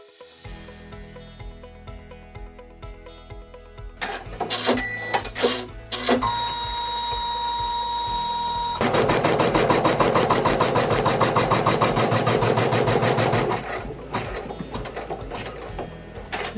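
An embroidery machine stitches vinyl laid over fabric, a steady mechanical whirr and rapid needle chatter that starts after a few seconds with clicks and beeps, then runs loud and continuous before easing off near the end.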